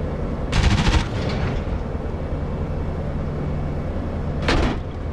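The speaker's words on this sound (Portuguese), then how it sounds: "Quem tá atirando essa ponta 50 ali?" A .50 caliber machine gun in the DCS combat flight simulator fires two short rattling bursts, one early and one near the end, over a steady engine drone.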